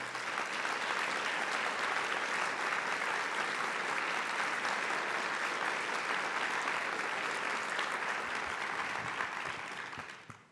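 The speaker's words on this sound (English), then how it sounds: "I want you all to join me in a round of applause to Lena Elliott" A seated audience at a university presidential investiture ceremony gives a long, steady round of applause, dense and even for about ten seconds before tapering off at the end.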